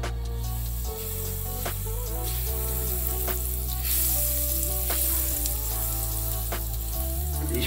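Food frying in butter in a pan, a steady close sizzle with occasional soft clicks and knocks, running alone without talk.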